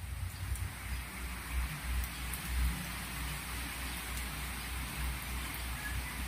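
Steady, soft patter of light rain from a typhoon in Bicol falling continuously, an even hiss with faint drops on surfaces and no voices.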